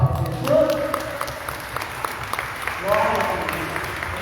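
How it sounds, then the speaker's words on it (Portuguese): A church congregation claps together, scattered sharp hand claps standing out against voices calling over the applause, which swells near the start and again near the end. "Uma salva de palmas para Jesus."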